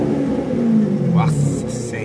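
A Corvette engine idles with a low, steady rumble and swells gently as it warms up, running continuously beneath a nearby voice.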